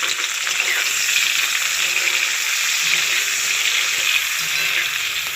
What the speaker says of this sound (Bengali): এবার দেব কুচিয়ে রাখা পেঁয়াজগুলো, এগুলোকে ভালো করে আমি ভেজে নেব যতক্ষণ না লাল হচ্ছে।